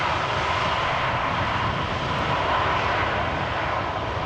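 Continuous broad roar of an arriving airliner's engines at Amsterdam Schiphol Airport, a steady loud rumble with no talk.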